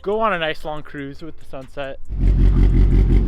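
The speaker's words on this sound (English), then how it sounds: "enjoy these beautiful turbo noises" A Mitsubishi Evo 10's turbo engine rises into a loud, dense revving roar after a stretch of speech, holding steady and close through the rest.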